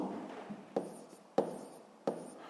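Handwriting an equation in a sixth-grade maths exercise, likely pen or chalk: faint scratchy strokes with three sharp taps as each mark or symbol begins, fairly close and quiet, with no talk.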